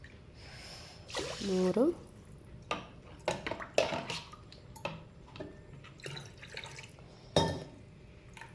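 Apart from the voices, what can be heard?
pouring glasses of water into pot for egg biryani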